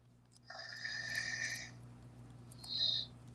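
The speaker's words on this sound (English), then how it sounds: "Robot snoring now." A robot producing a snoring sound: one long, wheezy rasping breath lasting over a second, then a shorter, higher whistling note, fairly quiet over a steady electrical hum.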